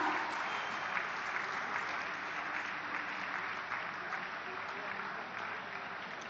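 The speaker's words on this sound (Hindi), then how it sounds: "जोरदार तालियों की शुभकामनाओं के साथ आज आप इस शुभ कार्य के" Loud, continuous crowd applause at the inauguration of Kashi Tamil Sangamam 2.0 at Namo Ghat in Varanasi: a dense, steady wash of clapping from a large audience that barely fades across its length.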